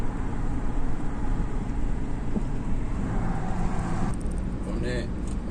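Steady road noise from a car cruising along a German road with headlights on, a continuous close engine and tire rumble filling the whole stretch.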